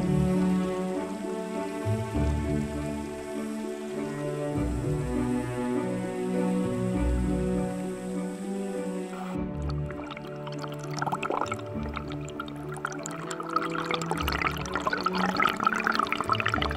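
Cold spring water welling up from the ground in a Gangwon valley, a soft continuous trickling and bubbling that grows clearer in the second half beneath steady tonal music.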